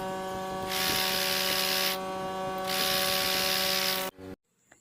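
Sewing machine stitching the hem of a simple blouse, a steady loud whirring run in two bursts with a brief drop between, stopping abruptly near the end.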